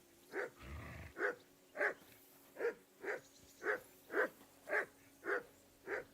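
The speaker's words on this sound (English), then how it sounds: "Henry, whistle at that mutt of yours to stop barking" A dog in the video game Kingdom Come: Deliverance II barks about ten times in a steady rhythm, fairly close and moderately loud, alone over a low background hum.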